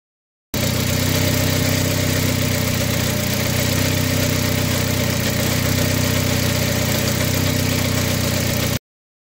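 A turbocharged Nissan Micra engine idles steadily and loudly with a constant droning rumble, close up and uninterrupted for several seconds.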